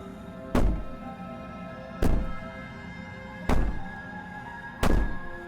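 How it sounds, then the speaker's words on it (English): Heavy banging in the video game Slay the Princess: four loud, evenly spaced thuds about a second and a half apart, each a deep booming impact ringing out over a steady droning background. "Maybe the banging and wailing will stop if you just..."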